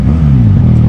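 A QJ Motor SRK 400 two-cylinder motorcycle engine revs briefly, its loud, close drone rising and falling in pitch within under a second.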